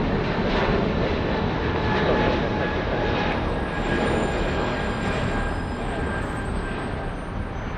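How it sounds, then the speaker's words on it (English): A United Airlines Boeing 777 bound for Chicago takes off at Los Angeles, filling the air with a continuous, loud, broad jet roar that holds steady throughout. "Let's go for the United Airlines 777, taking off right now. Rotating as we speak, flying to Chicago"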